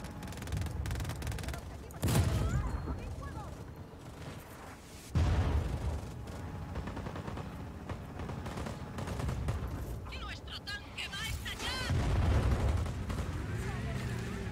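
Gunfire and heavy booms ring out during a tank battle in Just Cause 4, with loud blasts near 2, 5 and 12 seconds over a steady din of shots and combat noise, while radio-style voices talk throughout.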